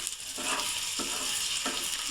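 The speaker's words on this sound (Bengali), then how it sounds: "ডিম হয়ে গেছে বাবা রে বাবা, এখনো ফুটতেছে" An egg fries in a pan, a steady close crackling sizzle with a few soft stirring scrapes and clinks, no voices.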